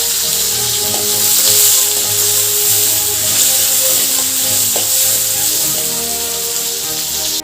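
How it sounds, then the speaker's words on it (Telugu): Green chillies and onions frying in a pan for a prawn and ridge gourd curry, giving a loud, steady sizzle with occasional crackles and stirring scrapes, close up, with no talking. "పచ్చిమిరపకాయలు ఉల్లిగడ్డలు కూడా వేసేసుకున్నాం వేగలిగాను"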